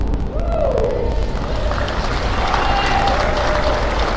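A crowd in a volleyball gym applauds steadily, a dense wash of clapping that stays loud and sustained the whole time, with faint cheering mixed in.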